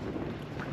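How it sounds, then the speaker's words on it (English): Strong wind gusting at about 60 mph against a tent pitched on a hillside during a heavy rain storm, producing a loud, continuous, buffeting roar close to the microphone with no voices. "Just check the wind outside. Currently 60 mile an hour, gusts of 60"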